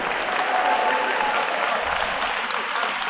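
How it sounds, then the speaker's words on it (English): An audience at an institute opening session gives a round of applause, dense continuous clapping from many hands holding steady for the whole stretch, moderately loud and close, with no distinct voices over it. "How about a round of applause?"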